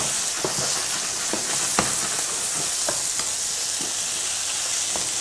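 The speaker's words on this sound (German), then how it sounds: "Alles brutzelt und ist bereit." Olives fry in a hot pan with a steady, close sizzle, broken by scattered clicks and light scraping from stirring, with no voices.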